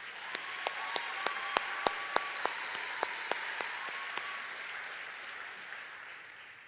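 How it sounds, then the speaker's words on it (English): A graduation audience applauds two vocalists in a hall, steady dense clapping with a run of louder sharp claps standing out near the start, then gradually thinning and fading toward the end. "Please help me in giving them a warm round of applause."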